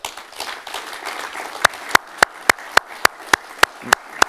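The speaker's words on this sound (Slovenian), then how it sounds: "mogoče en aplavz za arhitekta" An audience at a wood exhibition opening gives applause for the architect: sharp, evenly spaced loud claps rising out of softer scattered clapping, close and steady without talk.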